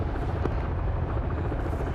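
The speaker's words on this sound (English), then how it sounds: "You better get that helicopter to either land or wave off" A video game helicopter's rotor thumps in a dense, steady chop that fills the background, loud and unbroken throughout.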